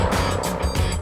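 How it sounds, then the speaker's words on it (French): A Mercedes-AMG S63 with a 612 hp V8 driving hard, a steady loud engine and road roar in a brief continuous burst with no talk. "le punch du V8 de 612 chevaux catapulte la bête à la moindre portion de ligne droite"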